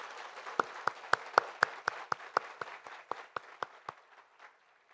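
A church congregation claps together for a departing pastor, a burst of sharp, fairly even hand claps that swells and then tapers off over several seconds, with no talking over it.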